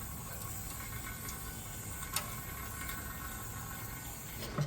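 Water flushing through and draining out of a 1963 AMC 287 engine with a seized rocker shaft, a faint steady trickle with a few small ticks and knocks, no talking.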